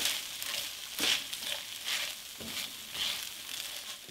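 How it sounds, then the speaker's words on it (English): Softened Philadelphia cream cheese being stirred into warm ground beef in a pan with the heat off, soft repeated squishing and scraping strokes at a low, even level, close by, with no talking. "I'm just working that cream cheese into the beef"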